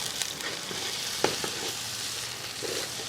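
Crab masala with a little salt and turmeric sizzles steadily in a pan, a dense continuous frying hiss broken by a few soft clinks and stirring scrapes, close and fairly loud throughout.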